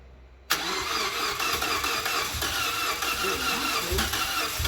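A freshly rebuilt Toyota Corolla engine cranks and catches abruptly after a quiet moment, then settles into a loud, steady, slightly rough idle close by.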